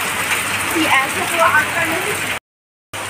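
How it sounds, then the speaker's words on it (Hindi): Heavy rain pours down in a loud, steady hiss, broken by a brief moment of silence near the end. "हो रहा है रेनफॉल, हेवी रेनफॉल, देख लीजिए, बहुत ज़ोरों की बारिश हो रही है"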